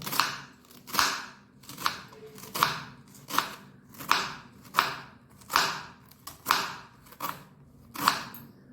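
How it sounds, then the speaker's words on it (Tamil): A knife chops cabbage into long thin strips on a cutting board in a home kitchen, giving about a dozen evenly spaced crisp crunches, each ending in a sharp tap, with no voices. "இப்போது இந்த முட்டைக்கோஸ் வந்து நீட்டாக ஷேப்பில் கட் பண்ணிக்கலாம்"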